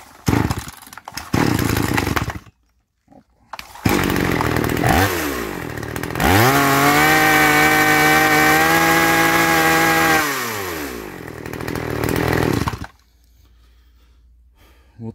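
A petrol chainsaw during carburetor adjustment: the two-stroke engine sputters in short bursts, cuts out, then revs up and holds a loud, steady high-pitched whine for several seconds before dropping back to idle and stopping.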